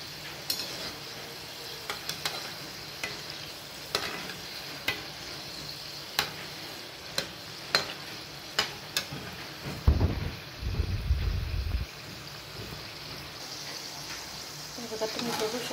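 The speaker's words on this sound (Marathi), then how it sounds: "आता आपण अशाच प्रकारे सर्व मोदक तळून घेऊया" Modak dumplings deep-fry in hot oil with a steady bubbling hiss. Regular sharp clicks punctuate the sound, and a louder, low rumbling burst arrives partway through.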